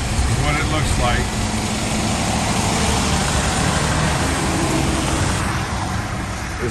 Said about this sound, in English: Sorry for any of the traffic, the wind noise.